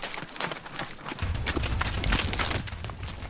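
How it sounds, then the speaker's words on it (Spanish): Horse hooves clip-clop steadily at a walk on the way to the Saqqara step pyramid in Egypt, close and fairly loud, with a low rumble of wind or movement underneath throughout. "a lomos de un caballo"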